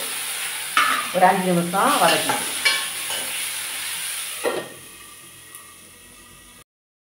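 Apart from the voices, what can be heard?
tomato, ginger and garlic sautéing in a pan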